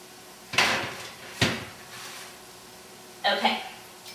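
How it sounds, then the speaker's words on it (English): Homemade croutons for roasted red pepper soup being slid into a 375-degree oven: three separate clunks of the oven door and metal tray, close and fairly loud, spaced over a few seconds. "we're going to put these in the oven at 375 for about 10 minutes"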